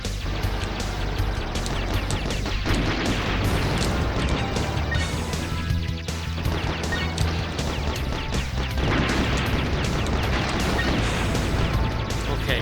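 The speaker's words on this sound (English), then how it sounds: "So the enemy explosions do hurt you." Enemy explosions in the NES game Blaster Master: a dense, continuous barrage of loud crashing blasts and booms layered over busy chiptune-style game audio, with no let-up across the whole stretch.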